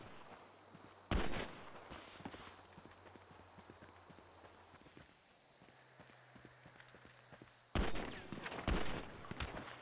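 Sharp paintball gun shots burst out in a 1v1 paintball game, one loud cluster near the start and another run of rapid pops near the end, with quieter outdoor background between.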